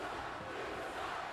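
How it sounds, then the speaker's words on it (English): Wrestling arena crowd roaring and cheering in a steady, dense wash of many voices, loud and continuous throughout with no break. "Josh, are you leading the cheer?"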